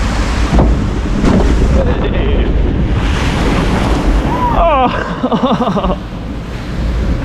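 A log flume ride at Europa Park plunges down its first drop into water, giving a loud, sustained rush of splashing spray and wind noise close to the rider, with a brief exclamation and laughter-like voice over the churning.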